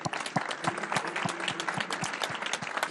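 An audience at a health app competition booth in a trade fair pavilion applauds steadily, a dense burst of many hands clapping close by with no pauses throughout.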